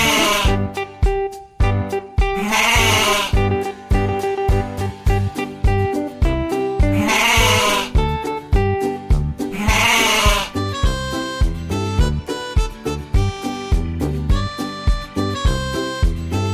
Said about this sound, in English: Goat makes the sound